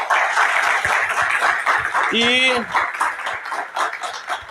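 Church congregation applauding to welcome a pastor, a dense steady clapping wash throughout with a brief voice rising over it midway.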